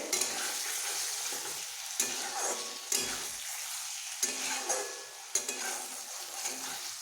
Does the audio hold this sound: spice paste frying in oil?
yes